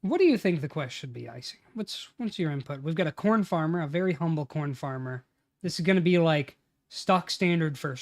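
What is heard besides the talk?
None of the usual background noises is heard.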